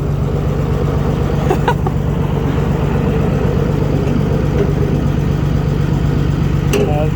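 A Massey Harris 102 tractor running for the first time in ten years, its engine chugging loudly and steadily up close, with a couple of faint clanks over the drone.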